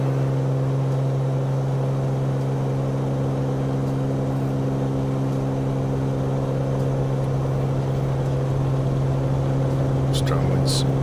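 Bonanza G36 piston engine at takeoff power in MSFS2020, a steady droning hum with strong low tones, constant and close, with a faint voice under it.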